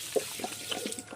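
Water poured out for a pig on a rural farm, a short, soft splashing trickle heard close by with no talking.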